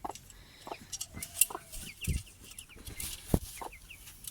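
Hens cluck in short, irregular bursts while chicks peep with thin, high chirps, close by, with a few louder clucks standing out.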